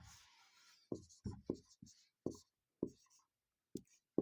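Pen scratching on paper while working a Class 8 maths exercise, in short bursts separated by pauses, close and clear, with a voice speaking at times.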